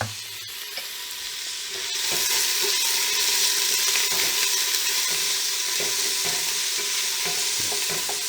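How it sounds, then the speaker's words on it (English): Onions sizzling steadily in a hot pan for tomato sauce, a continuous crackling hiss that grows a little louder after the first couple of seconds, with faint utensil clinks. "We'll go in with the onions. Nice little sizzly sound there."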